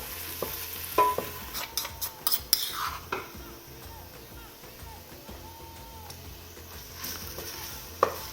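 Onions sautéing with garlic, ginger, chili and salt for a Réunion-style Chinese cabbage fricassée, a steady sizzle under sharp scrapes and clinks of a utensil stirring the pan, loudest early on.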